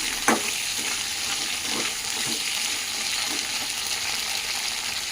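Green chillies frying in a pan for a fenugreek leaf chutney, a dense close sizzle with a sharp clink and a few light stirring scrapes near the start, and no voices.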